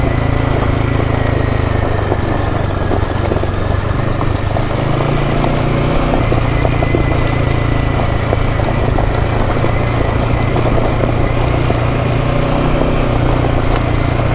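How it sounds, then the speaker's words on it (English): Motorcycle engine braking while rolling down a rough, loose remote logging road during a roadbook rally, a steady low engine drone with wind rush running continuously throughout. "Very little, mostly engine braking."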